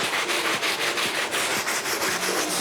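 A medium-coarse brush scrubs soapy cleaner into Travis Scott Jordan 1 Low sneakers, giving steady close rasping strokes in a quick repeating rhythm with no talk.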